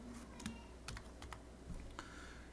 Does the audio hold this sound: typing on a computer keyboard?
yes